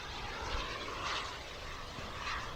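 A steady whooshing engine drone from an RC jet model airplane flying smoothly overhead, continuous and moderately loud with slight swells, no voices.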